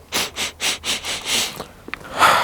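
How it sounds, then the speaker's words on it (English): A series of about six quick, close sniffs in a steady rhythm, followed by a faint rustle and a longer breathy exhale. "I gotta do a sniff test."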